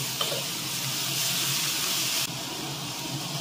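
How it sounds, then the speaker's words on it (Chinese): Mung bean sprouts sizzle loudly in a hot oiled wok as they are stir-fried in a home kitchen. A steady hiss continues throughout, with light scraping as the sprouts are tossed and stirred. "爆炒绿豆芽"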